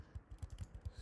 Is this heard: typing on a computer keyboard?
yes